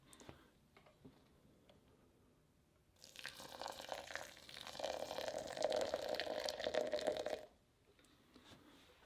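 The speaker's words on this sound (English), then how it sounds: "we're gonna put about 36 grams of water in." Hot water poured onto 18 grams of ground coffee in a French press: a quiet start, then a steady, hissing, splashing pour for about four seconds before it cuts off and the room goes quiet again.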